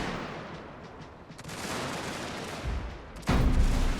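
Dense battle gunfire from French troops in the strategy game Fall of the Dragon Empire, a constant crackle of rifle volleys that swells and turns louder and heavier toward the end, with no voices.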